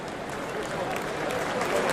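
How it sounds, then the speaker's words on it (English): A rugby crowd at a Leicester Tigers versus New Zealand Māori All Blacks exhibition match applauds an injured player back on his feet, steady broad clapping and crowd noise under a commentator's voice. "the crowd appreciating the man back on his feet"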